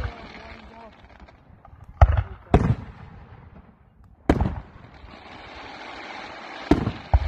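Fireworks exploding outdoors: four or five sharp, loud bangs spaced a second or two apart, with people talking in between.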